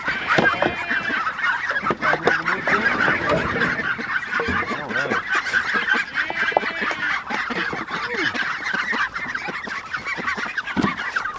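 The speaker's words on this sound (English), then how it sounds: "this right here is flock B for our meat ducks" A flock of meat ducks calls out in loud overlapping honks and quacks, near and continuous, with no talking.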